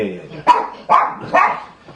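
Three sharp dog barks about half a second apart, loud and near, over a man's ongoing conversation.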